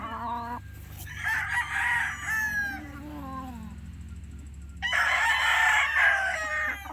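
A black Boston Dome gamefowl stag crows twice nearby, each crow a drawn-out call lasting about two seconds, with a short quiet gap between them.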